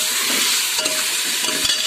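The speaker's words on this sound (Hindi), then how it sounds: "उसके बाद ये प्याज, ये स्लाइस किया हुआ प्याज शामिल कर रही हूँ इसके अंदर" Sliced onion, garlic and ginger being stirred into chicken in a hot pan: an even, close sizzle with a few soft scrapes of stirring.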